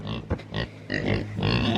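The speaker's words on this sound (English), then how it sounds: "that pig right there keeps on digging holes to China" A pig grunts in a muddy pen on a pig farm, with several close, loud, rough grunts coming in short bursts.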